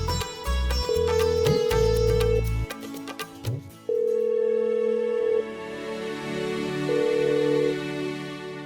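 A telephone rings in repeated electronic tones, cycle after cycle, close and fairly loud, with no one picking up.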